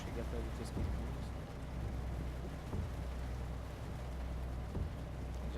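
Rain falls in the Euro Truck Simulator 2 video game, a faint, steady patter over a low truck rumble, while a voice talks over it.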